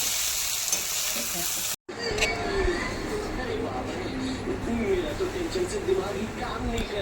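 Fish fat sizzles and crackles steadily in a hot pan, a dense close frying hiss that cuts out briefly and resumes, with soft stirring scrapes.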